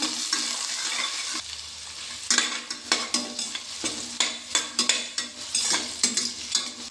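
Onions sizzle in frying oil in a pan, then repeated scraping strokes of a utensil stirring in a steady rhythm, close up.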